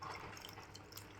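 Tamarind water poured into a simmering coconut-milk tuna fish curry, a soft steady liquid trickle and bubbling, faint and close, with no talk.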